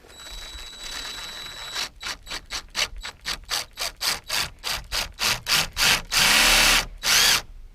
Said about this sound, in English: and you can go ahead and drill.